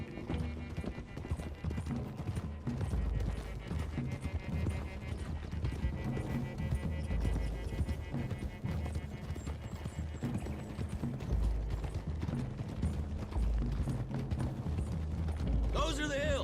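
Horses' hooves clip-clop steadily along a road in the video game Red Dead Redemption 2, a continuous loud rhythm of several animals mixed with the game's dense background sound.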